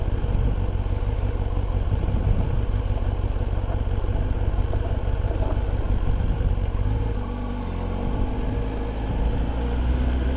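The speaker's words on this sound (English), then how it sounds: "let's go for a ride" A 2021 Kawasaki ZX10R sport bike engine runs steadily, a loud continuous low rumble close by with a slight dip in level near the end and no voices.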